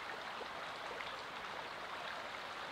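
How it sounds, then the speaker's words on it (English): Bubbling brook in a moss forest, a steady close rush and gurgle of running water filling the whole stretch evenly, with no voices. "I'll still have that sound of the bubbling brook"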